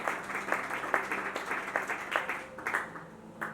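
Scattered clapping at a church gathering honoring pastors, made of distinct, fairly faint individual claps in an uneven rhythm, repeatedly surging and thinning over a low background.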